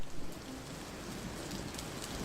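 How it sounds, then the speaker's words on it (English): Heavy rain pours down steadily outside the Taitu in Addis Ababa, Ethiopia, a dense even hiss of drops striking surfaces, moderately loud and unbroken with no voices. "Outside Taitu, there's a rainstorm."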